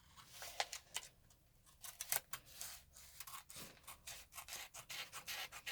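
Scissors cut fabric for a cowl neckline, giving quiet, close snips and rustling rubs of cloth in an uneven rhythm, faint and with no talking.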